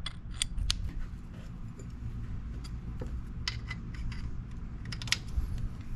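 A 10mm drain plug being snugged into the engine of a Honda CRF450R during an oil change, giving small metallic clicks and ratcheting creaks over a steady low background hum, close up and without talk.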